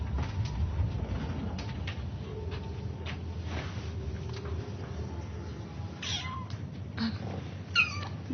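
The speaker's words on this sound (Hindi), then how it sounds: "बिल्ली के बच्चे क्यूट है ना?" Several high, thin meows from small kittens break out near the end, over a low, steady background hum with faint rustling.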